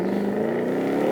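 A Ford Mustang RTR Spec 2, tuned by Mountune to about 500 horsepower, accelerates away with a steady, loud engine drone at a supercar event, heard alone and close.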